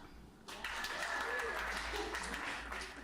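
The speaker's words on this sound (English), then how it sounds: "is anyone willing to clap" An audience at a comedy podcast taping breaks into applause and scattered clapping after a short quiet moment, swelling quickly and holding steady, with faint voices mixed in.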